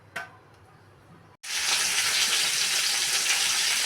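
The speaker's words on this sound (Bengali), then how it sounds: "তেলে পাঁচফোড়ন দিয়ে সব কাটা সবজি দিয়ে দিলাম।" Chopped winter vegetables, including potato, hit hot oil seasoned with panch phoron: a brief quiet stretch, then a sudden loud, sustained hissing sizzle that holds steady to the end.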